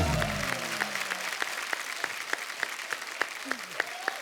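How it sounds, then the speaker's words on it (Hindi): A studio audience on the Kapil Sharma comedy show applauds warmly and steadily for Govinda. Dense, sustained clapping fills the room, with sharp accented claps punctuating it and brief voices at the start. "जोरदार तालियां"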